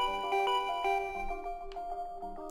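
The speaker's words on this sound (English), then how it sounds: "And now the doorbell won't stop ringing." A doorbell in the video game Danganronpa V3 chimes over and over, its bright two-tone ding-dong repeating in a steady loop with tones ringing out and overlapping, close and clear with no talking.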